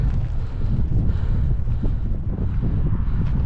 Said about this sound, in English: You probably can't hear a word I'm saying because it's a bit windy now.